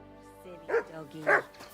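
A dog in Kingdom Come: Deliverance II gives two short, clear barks about half a second apart, close and loud, with a faint low hum beneath.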